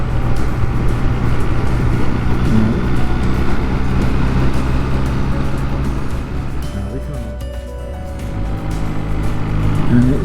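A Honda CD200 motorcycle rides along an undulating village road, its steady engine drone and road rumble loud and continuous throughout, easing slightly midway before building again.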